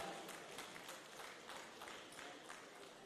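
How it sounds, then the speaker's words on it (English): Steady applause from a conference audience at a pharmacists' continuing education event in Lagos, dense overlapping clapping held at an even level throughout with no pauses. "Please a round of applause for him."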